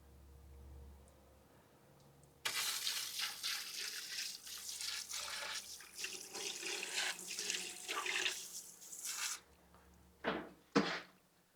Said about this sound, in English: Just wanted to get it down so I can rinse off the top layer here